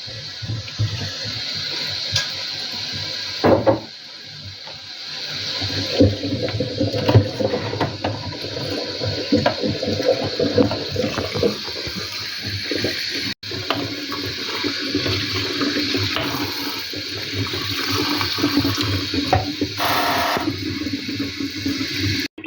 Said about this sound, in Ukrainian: Поливаємо, помиваємо холодною водою гарно.